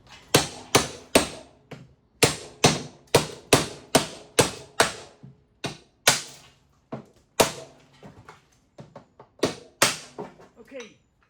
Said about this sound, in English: you could use the hammer axe and just chop it